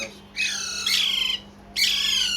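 Alexandrine parakeet chicks give loud, harsh squawks in three close bursts separated by short pauses, nearby and without any talking.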